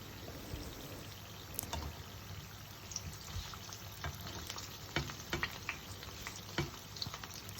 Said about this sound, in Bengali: এক এক করে ফুলকপির বড়াগুলো আস্তে আস্তে করে ভেজে নিচ্ছিলাম